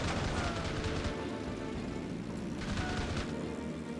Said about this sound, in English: Our cannons will make short work of all these zeros.